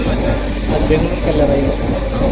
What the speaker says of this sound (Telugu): సికింద్రాబాద్ నుంచి ట్రైన్ బయలుదేరేసింది